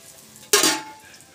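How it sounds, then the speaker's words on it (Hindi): Almonds hit a hot kadhai for samosa filling, a single sharp sizzle bursting out mid-way and fading quickly, close and fairly loud with no talk. "और कढ़ाई गर्म है, और इसमें थोड़ा सा भून लेते हैं बादाम, जो डालेंगे समोसा में।"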